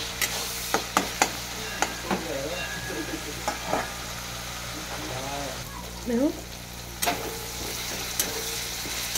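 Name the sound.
onions frying and being stirred in a pan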